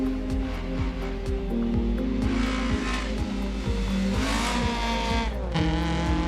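A classic race car in a racing sim video game, with a loud continuous engine roar that shifts pitch through repeated gear changes and revs, plus brief tire squeal, close and alone with no talk.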